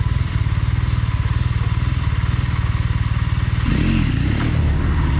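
A motorcycle rolls slowly at idle RPM during wheelie practice, putting out a loud, close, evenly pulsing low engine throb that thickens and rises briefly near the end.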